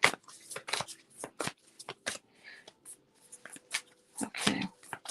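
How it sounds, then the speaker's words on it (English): Soft, papery riffling and tapping of tarot cards being shuffled close by, in quick irregular bursts with quiet gaps. "I'm shuffling your cards"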